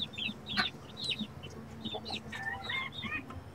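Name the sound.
chickens clucking, hens and chicks at a poultry farm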